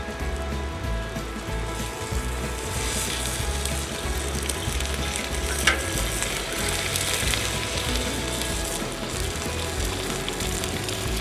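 Rainbow trout fillets frying in oil and butter give a steady, dense sizzle that runs the whole time with a constant crackle, close and moderately loud, and one brief sharp tick midway.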